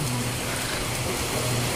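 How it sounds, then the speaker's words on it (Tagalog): Heavy rain pouring steadily at a cemetery, a dense, even hiss of falling water that stays loud throughout without any talking. "Heavy ang ulan dito."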